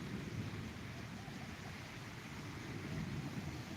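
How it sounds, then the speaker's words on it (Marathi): Soft, steady hiss of light drizzle, faint and even throughout. "रिमझिम पाऊस पडत आहे"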